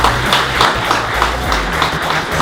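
Audience clapping for the Junior 18 class winners at an orienteering prize-giving, sustained and even, a mid-level crowd of hands applauding without any voices on top.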